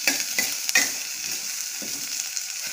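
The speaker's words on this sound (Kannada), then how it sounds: "ಸ್ವಲ್ಪ ಹೊತ್ತು ಫ್ರೈ ಆಗಲಿ ಇದು." Mango pickle mixture with greens frying in a pan, a constant bright sizzle with a spoon stirring and scraping a few times, close and steady, no voices.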